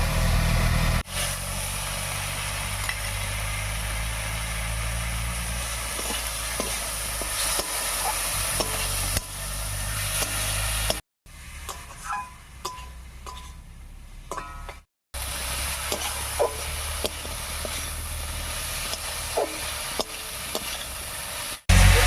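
Red lentils stir-fried with spices in a pan for a dal tarka: steady close sizzling with scraping stirs throughout, a brief quieter stretch in the middle, then loud frying again, with no talking.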